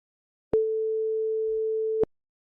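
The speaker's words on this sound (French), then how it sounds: "Une autre tonalité." A single steady electronic tone rings alone for about a second and a half, starting and stopping abruptly against silence.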